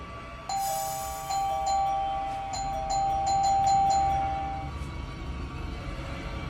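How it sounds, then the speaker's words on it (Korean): Electronic doorbell chiming at night, a repeated two-tone ding-dong pattern ringing several times in quick succession, clear and fairly close. "아, 잠깐만, 근데 왜 초인종을 눌러?"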